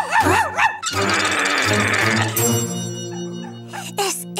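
A cartoon dog barks and yips excitedly in a children's TV show, with bursts of loud barking mixed with music and sound effects.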